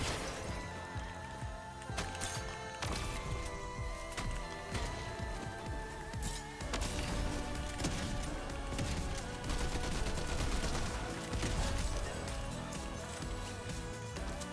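Rapid, sustained gunfire from the video game Fortnite, layered with game music and effects, running dense and loud throughout with repeated bursts of shots.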